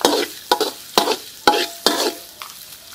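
Chili and garlic stir-fried in a pan, with about six sharp sizzling bursts as the spatula tosses the food, each flaring loud then fading, close by.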